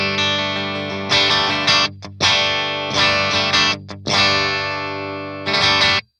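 Mozer Chariot Mono electric guitar played through a clean tone with its humbucker in parallel mode: several strummed chords ring out loud and alone, separated by brief cut-offs and short muted strums, then stop abruptly.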